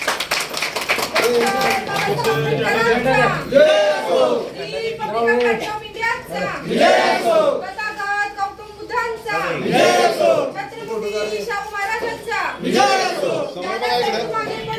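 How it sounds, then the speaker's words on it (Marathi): Crowd at a Republican Party gathering in Koregaon, Satara clapping to welcome a newly appointed minority-wing office bearer, dense applause mixed with chatter and children's voices throughout. "त्यांचं सगळ्यांनी टाळ्या वाजवून स्वागत करायचे"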